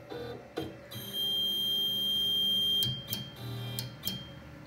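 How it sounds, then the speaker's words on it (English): A CNC router runs its reference-all-home cycle, seeking its limit switches with a steady high motor whine that holds for a couple of seconds, followed by several short clicks and beeps, with no talking. "Then I reference all home, and then magically it goes and finds all these switches."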